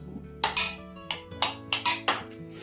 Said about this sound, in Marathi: साखर पण मिक्स करून घेतली आहे